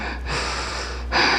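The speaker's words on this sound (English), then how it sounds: "Long exhales." Deep breaths during a yoga and Pilates session, one long steady breath through the mouth followed by the start of a stronger, louder exhale, close and clear with no talking.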